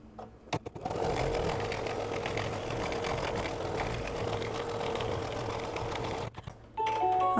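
An embroidery machine stitching a tack-down line on fabric, a steady rapid mechanical whirring and needle clatter running for several seconds, close and even, stopping briefly near the end before starting again.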